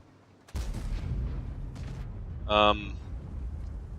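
A single heavy tank cannon shot from the 45TP Habicha in World of Tanks, set on the El Halluf desert map, cracks out loud and sudden after near silence, then booms and rolls away, with a brief tonal game chime following.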